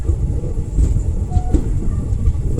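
Latur–Mumbai Superfast Express 22108 rolling along at speed, a steady loud rumble with rhythmic wheel clatter on the rails from inside the coach, continuous throughout.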